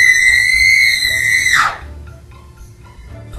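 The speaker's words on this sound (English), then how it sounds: "My scream paralyzed you." A woman's high, piercing scream, loud and sustained for about a second and a half before breaking off sharply, followed by faint background room noise.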